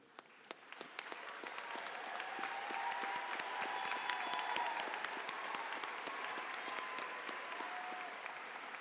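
A graduation ceremony audience applauds, the clapping swelling over the first few seconds into a full, sustained round from a large crowd in a big hall.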